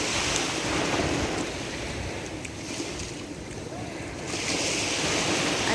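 Sea waves wash and crash onto Pico Beach early on a Sunday morning, a continuous broad surf roar with wind buffeting the microphone, swelling louder near the end.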